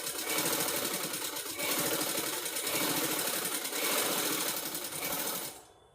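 An electric sewing machine stitching a blouse: a steady, fast mechanical whirr, loud and close, running in several long bursts with brief slowdowns before it stops at the end.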